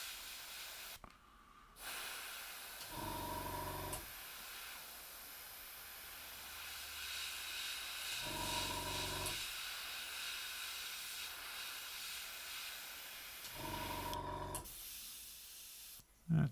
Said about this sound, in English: Yeah, it's spraying.